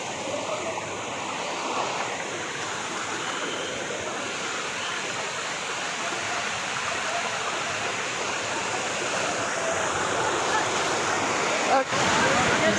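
A waterfall on a nature trip, with people going to bathe beneath it, gives a steady, close, broadband roar of falling water that holds at an even loudness throughout, with no voices standing out.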